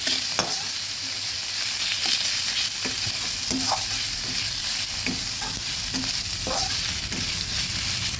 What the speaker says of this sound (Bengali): সব কিছু ভালোভাবে ভেজে নিচ্ছি